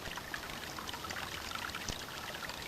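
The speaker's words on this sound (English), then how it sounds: "head for the spring to fill up on some clean water" Clean spring water spills and pours steadily while a water filter is filled at a hiking campsite, a soft continuous trickling splash close by with scattered droplet patters, and no talking.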